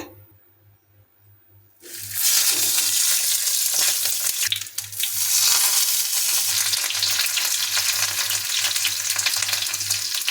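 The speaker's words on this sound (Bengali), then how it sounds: "তেল গরম হয়েছে আর এর মধ্যে এবার কলা পাতায় বেঁধে রাখা মাছের টুকরোগুলোকে আমরা একটা একটা করে রেখে দেবো" Fish pieces wrapped in banana leaf are laid into hot oil in a frying pan, and after a quiet start a loud, dense, continuous sizzle takes over and holds steady to the end, with a low hum underneath.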